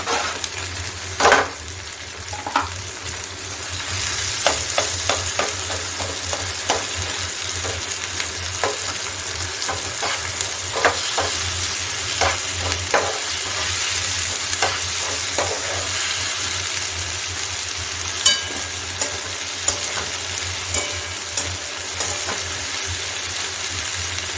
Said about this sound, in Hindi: इसके साथ साथ अब इसमें डाल देंगे कटे हुए टमाटर।